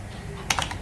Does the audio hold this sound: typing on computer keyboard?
yes